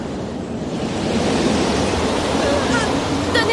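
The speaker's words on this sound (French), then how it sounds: "Il y a une bourrasque." A strong gust of wind roars over crashing waves during a storm at sea, a dense, steady rush of noise that swells slightly and stays loud throughout.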